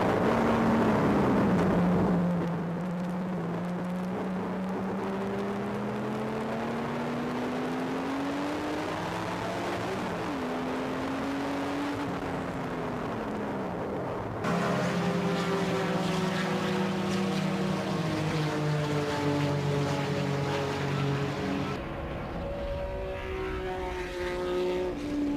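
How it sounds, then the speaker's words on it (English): Porsche 935 K3 race car built by the Kramer brothers, heard on board during a ride, its engine droning loud and steady with pitch rising and falling through gear changes, shifting to a harsher higher note partway. "a ride with 935 driver Ken Gold in a Porsche 935 K3"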